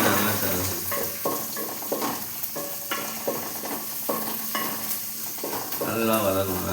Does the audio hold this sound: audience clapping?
no